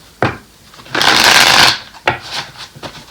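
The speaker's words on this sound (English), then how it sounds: "I'm going to shuffle one more time." A tarot deck is shuffled by hand: a sharp snap, then a long, dense riffle of cards lasting most of a second, followed by a few softer taps and shuffles, close and loud with no voices.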